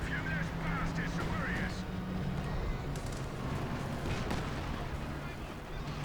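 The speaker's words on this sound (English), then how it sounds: "you are losing men to the artillery spam" Artillery barrages in the Company of Heroes 2 4v4 White Ball Express map: continuous rumbling thuds and blasts form a dense, loud battle wash, with a voice talking over the top part of the time.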